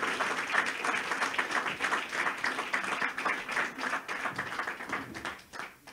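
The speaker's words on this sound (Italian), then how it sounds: "Un applauso gentilmente." Audience applause at a Lega party political event presenting local election candidates, steady dense clapping filling the hall throughout without a break, moderately loud and close.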